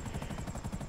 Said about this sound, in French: J'ai entendu l'hélico, il a commencé à faire moins de bruit d'un coup.